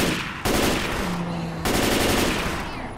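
A SCAR rifle in Left 4 Dead 2 fires in loud, tight bursts, two distinct rapid volleys with a brief sustained tone between them, sounding close and dominant throughout.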